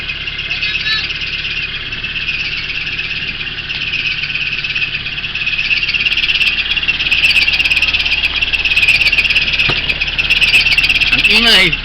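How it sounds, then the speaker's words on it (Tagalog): A car engine's worn fan belt squeals steadily and loudly from close by, a high continuous whine with chirps near the end, while people talk inside the vehicle. "Ang ingay. Yung panbelt."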